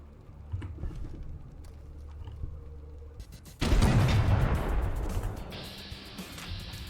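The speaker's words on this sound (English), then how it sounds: "They have a howitzer." Howitzer artillery in Fallout The Frontier, heard as a sudden heavy blast after quiet rumbling, followed by a long roaring, crackling decay.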